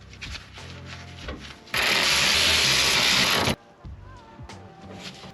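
A dirty fuel pump nut and washer from a 1988 Honda CRX Si are rubbed clean, making a loud, close, continuous scrubbing burst of about two seconds set between quieter handling sounds.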